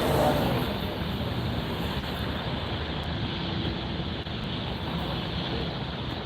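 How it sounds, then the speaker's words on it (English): Boeing 787-9 Dreamliner jet engines at Los Angeles airport at night, a broad, steady roar and rumble lasting throughout at moderate distance, with no clear speech over it. "Another large aircraft, and listen to the rumble of those engines."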